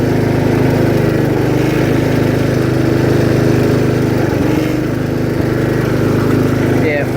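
A 1968 John Deere 110 lawn tractor engine running steadily while fourth gear is tried, a continuous low chugging drone with a rough, uneven texture, close and moderately loud throughout.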